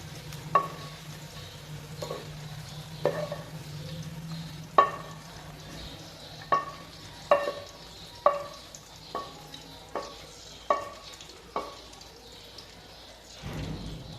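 Fried okra is stirred into chicken in a pot, with a low sizzle of oil under a series of sharp spoon scrapes and clinks that come every second or so.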